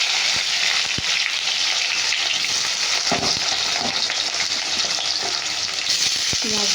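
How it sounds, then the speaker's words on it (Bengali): Chopped onion sizzles hard in hot oil already crackling with cumin seeds, a dense continuous frying hiss with a few sharp spits and stirring clatters near the pan, no voices. "জিরে ফোড়নে দিয়ে এবার পেঁয়াজটা দিয়ে দেবো।"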